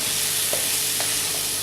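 Ground meat for bolognese browns in a pan with a dense, continuous close sizzle, with faint stirring taps beneath it and no voices.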